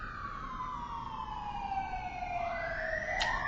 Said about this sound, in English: I think that may be an ambulance rather than a police car.